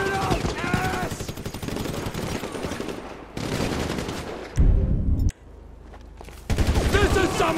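Rapid bursts of automatic gunfire in Grand Theft Auto V, loud and repeated across several stretches with brief gaps, mixed with voices shouting during the shootout.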